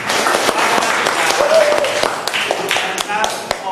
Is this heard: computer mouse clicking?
no